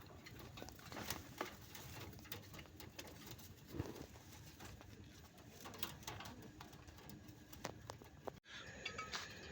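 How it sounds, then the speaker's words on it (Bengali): A restless high-flier pigeon flutters and coos among other birds, with pattering wing flaps and scuffles in a busy, noisy loft setting; no talking. "খুবই ছটফটা কবুতর"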